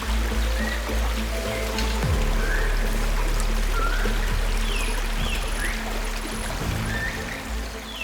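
River water flowing steadily at a crossing where a young lion was swept away, a continuous rushing, pouring wash with no voices.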